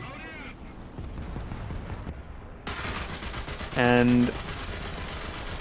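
Heavy .50 caliber machine guns fire in War Thunder, a rapid burst ringing out loud and close over steady engine and battle noise, with a brief spoken word.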